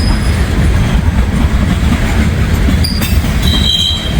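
A Norfolk Southern mixed manifest freight train rolls past close by in cold weather, giving a loud continuous rumble with wheel noise and faint high squeals.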